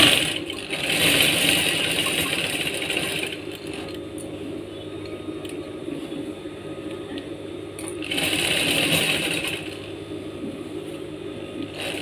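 A sewing machine stitches a vest pocket in two runs of rapid, whirring stitching. A quieter stretch separates the runs, and the machine sounds close and steady.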